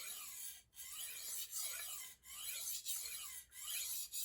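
A knife blade rasps steadily across a sharpening stone in repeated strokes, about six or seven passes. Each stroke is separated by a brief pause, and the sound is quiet and close with no talking.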